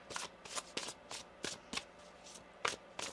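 Tarot cards shuffled by hand close up, a quick run of about eight crisp riffling bursts in uneven rhythm with short gaps between, fairly soft and with no talking.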